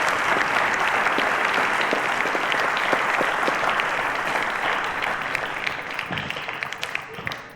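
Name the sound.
applause for quiz contestants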